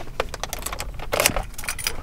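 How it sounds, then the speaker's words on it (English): Car keys for a Subaru WRX jangling close up, a burst of bright metallic clinks and rattles just before going into the ignition. "Key in the ignition"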